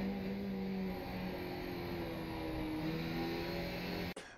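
A Skip Barber race car engine at Zandvoort in the iRacing game drones steadily, its pitch drifting slightly as the car downshifts, then cuts off abruptly near the end.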